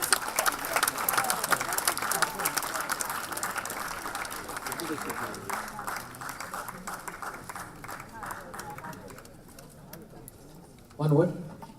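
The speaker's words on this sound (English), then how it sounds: "A round of applause please for Mr." Applause from a gala audience for an award winner, dense clapping that fills most of the stretch and slowly thins out, with voices mixed in, before a louder burst right at the end.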